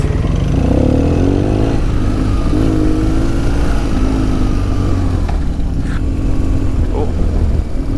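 A 2004 BMW R1200GS boxer-twin motorcycle pulls away in second gear on green lanes, its engine note rising and steady under heavy wind buffeting, close to the rider while a voice talks over it.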